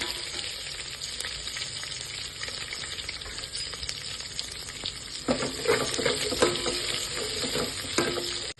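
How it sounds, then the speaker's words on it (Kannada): Onions, mustard seeds and curry leaves fry in hot oil in a pan, a steady close crackling sizzle that grows busier with stirring toward the end. "ಈಗ ಈರುಳ್ಳಿ ಫ್ರೈ ಆಗಿದೆ"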